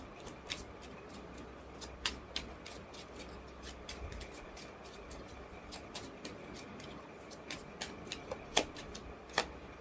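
Tarot cards are shuffled and laid down, giving irregular soft flicks and sharp snaps that come in quick bursts over a quiet room background.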